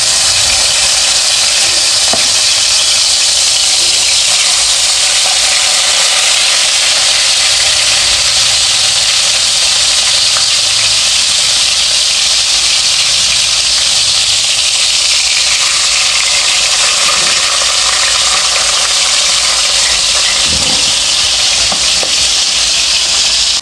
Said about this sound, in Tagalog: prito na po natin yung isda muna.